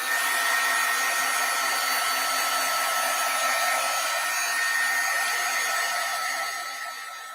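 An embossing heat tool blows steadily to melt powder on a stamped sentiment, a continuous close whooshing hiss that holds even throughout and eases off slightly at the very end.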